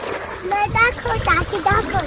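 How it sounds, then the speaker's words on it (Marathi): Well water splashing and running on a farm, close and continuous, while children and someone talk and laugh over it. "विहिरीचं पाणी चालू आहे"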